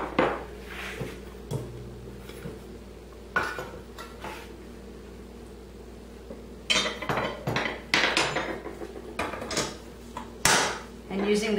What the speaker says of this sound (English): Now I'm going to take all of the dry ingredients and place them in the bowl of my stand-up mixer.